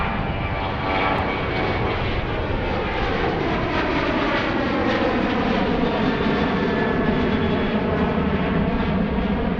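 A Sun Country airliner comes in to land at Philadelphia airport, its engines a loud, sustained roar whose pitch shifts steadily as it passes nearby, with no talk.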